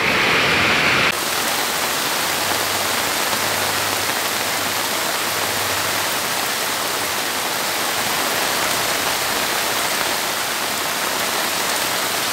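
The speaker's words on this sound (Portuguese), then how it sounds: "Diante dessa chuva que está caindo aqui no bairro São José." Heavy rain pours down steadily on a street in the São José neighborhood of Surubim, Pernambuco, a dense, continuous hiss of water with a brief louder burst at the start and no voices.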